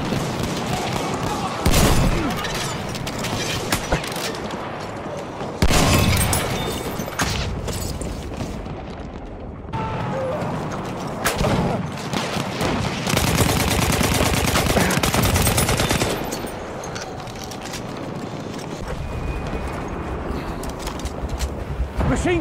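Heavy machine-gun fire on a Battlefield 1 battlefield, a dense roar of rapid bursts in repeated volleys with booming impacts, loud and close, with voices talking over it.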